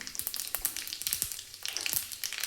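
Mustard seeds and cumin sizzling in hot oil for buttermilk sambar, crackling with sharp irregular pops and spits over a steady frying hiss, close and fairly loud with no talking.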